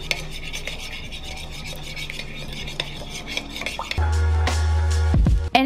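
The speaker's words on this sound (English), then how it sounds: "And then I'm gonna mix this all together." Spices and ground black pepper are stirred in a bowl with soft scraping and clinking of a utensil, followed by a louder, rougher rubbing burst near the end.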